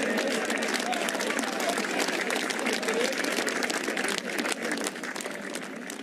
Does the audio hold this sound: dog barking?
no